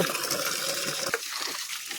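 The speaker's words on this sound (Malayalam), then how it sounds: "എല്ലാത്തിനും നമ്മൾ വെള്ളം ഒഴിക്കാൻ പോവാണ്." Water poured onto plants makes a brief broadband gush that stops abruptly about halfway through, leaving quieter trickling and light drips.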